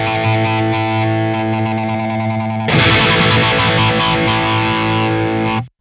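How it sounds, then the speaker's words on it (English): A guitar runs through a smart phaser effect whose rate is being modulated, sustained distorted chords sweeping and swirling, then a fresh brighter strum midway before the sound cuts off abruptly. "go to the phaser and control the rate"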